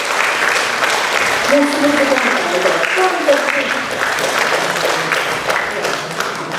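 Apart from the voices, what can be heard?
audience applauding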